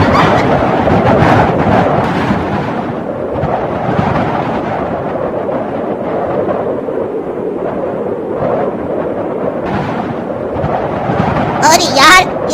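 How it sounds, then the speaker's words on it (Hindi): A strong summer windstorm roars as a continuous, loud broadband rush with gusty swells, heard close by at night before rain, with faint voices in the background. "अरे यार ये इतना तेज हवा कहाँ से लगने लग गया? और ये तो आंधी आया है"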